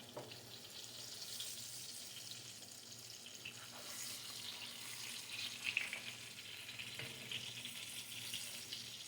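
Whiting fish frying in a pan, giving a steady, moderate crackling sizzle with a brief louder flare midway, no voices.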